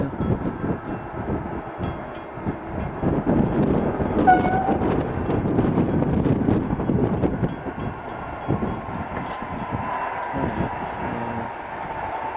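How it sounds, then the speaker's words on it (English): A train rumbles past with a steady rolling clatter and a brief horn note partway through, wind buffeting the microphone. "new train."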